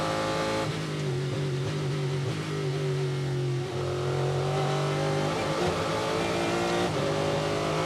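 Race cars lapping during Six Hours of the Glen qualifying in 2021, a loud continuous engine drone with shifting pitch as cars pass and rev, with no talk over it.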